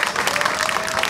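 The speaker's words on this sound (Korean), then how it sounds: "박수 한번 쳐주시기 바랍니다." Crowd applause at an outdoor political rally speech in Jinju by the Democratic Party leader, a brief, dense wash of many hands clapping with no break.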